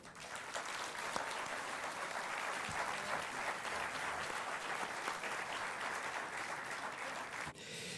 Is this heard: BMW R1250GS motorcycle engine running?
no